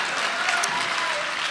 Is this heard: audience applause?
yes